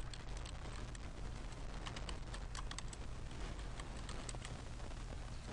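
Computer keyboard keys are tapped in a steady run of light, quick clicks while a new Groupwise email rule is named. The typing sits under a loud, constant background hiss, and faint pigeon-like cooing is also present.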